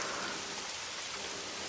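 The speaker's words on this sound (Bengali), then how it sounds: "এই শীতের সময় অকাল বৃষ্টি।" Steady rain falls on a winter night in an animated Bangla ghost story, a dense, even hiss of drops on surfaces that carries on without break, with no voices.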